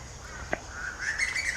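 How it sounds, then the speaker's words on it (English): Birds sing in a quiet botanical garden among tall bamboos, with a short bright chirp and a higher warbling call rising over faint background hiss, moderately close. "You can hear the birds, and it's very peaceful here."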